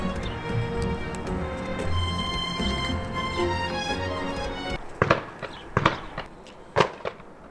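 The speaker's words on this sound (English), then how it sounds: "having someone shooting just a few feet away from me makes me feel a little bit uneasy" Gunshots from someone shooting a few feet away on a foggy La Mancha plain, several sharp cracks in an uneven sequence after a stretch of steady rumbling background noise, fairly close and loud.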